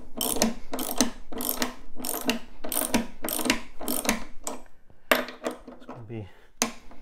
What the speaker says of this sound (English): So I'll finish that off with the ratchet on this side anyway.